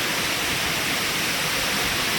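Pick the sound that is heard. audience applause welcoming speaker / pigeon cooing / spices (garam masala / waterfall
waterfall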